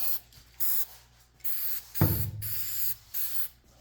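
A spray can coats a guitar body in short repeated bursts, five or six hissing blasts separated by brief pauses, with a single knock or tap partway through.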